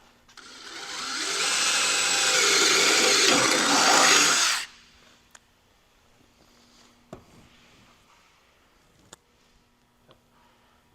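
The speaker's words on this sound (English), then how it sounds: "We're going to drill another 1/4" hole right through the bedside here." A power drill whines loudly and steadily for about four seconds as it bores a 1/4-inch hole through the steel bedside of a third-generation Toyota Tacoma, then cuts off, leaving faint clicks and a low hum.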